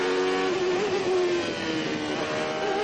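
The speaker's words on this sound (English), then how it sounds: "You're looking at the Ferrari now of Alain Prost from the cockpit of Nigel Mansell's Williams Renault." Formula One Williams Renault engine heard from inside the cockpit of a moving race car, a loud steady high-pitched engine whine with slight pitch wavering, close and continuous with no talk.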